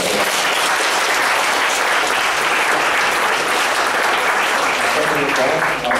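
Sustained applause from an audience at an assembly of a young Buddhist congress in Londrina, Brazil, a dense, steady clapping filling the hall for the full duration without a break.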